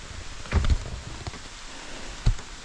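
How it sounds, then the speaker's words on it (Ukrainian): Steady rain hisses without a break over a raspberry field, with a couple of dull thumps standing out over the wash of falling drops. "Дивіться, який дощ."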